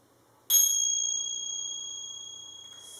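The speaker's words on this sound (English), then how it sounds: "Keep going till you hear the bell." A single bell marks the close of a meditation during a children's yoga class, giving one clear metallic strike whose pure, steady ring decays slowly over several seconds in a quiet room.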